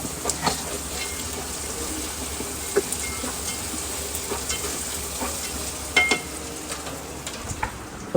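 Fried peanuts are stirred into browned potatoes frying in a pan. The oil hisses steadily, and scattered scraping taps and knocks come from the spoon.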